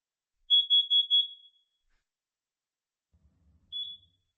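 Smoke and carbon monoxide alarm under test: a quick series of four loud, piercing high beeps, then quiet, then a single beep after a pause, in a quiet room.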